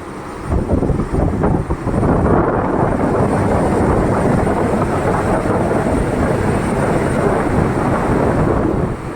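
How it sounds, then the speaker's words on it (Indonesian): A loud, steady mechanical roar of a passenger ship's engine room machinery heard at the engine room door, dense and rumbling, with no voices over it. "itu pasti kedengaran suara mesinnya, karena ini pintu kamar mesin ini"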